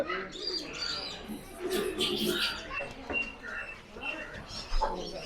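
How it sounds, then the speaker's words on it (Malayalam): Pigeons of a special breed, said to come from Afghanistan, coo and chirp on a farm. Several birds call close by, softly but steadily, with people talking over them. "പ്രാവുകൾ ഒരു പ്രത്യേക തരത്തിലുള്ള പ്രാവുകൾ"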